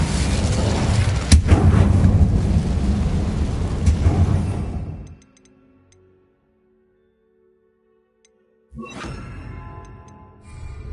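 A fire spell cast in Hogwarts Legacy, a loud roaring burst with sharp cracks for about five seconds, cutting to silence before another rumbling blast returns.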